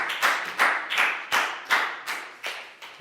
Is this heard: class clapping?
yes